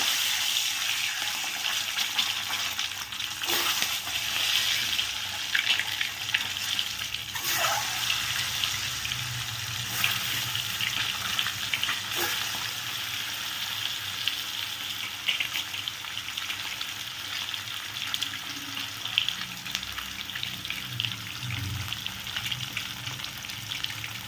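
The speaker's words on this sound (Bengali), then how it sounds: "ডিমগুলোকে ভালো করে ভেজে নেব।" Eggs fry in hot mustard oil in a karahi, giving a loud, constant crackling sizzle throughout, with a few brief spatters and knocks.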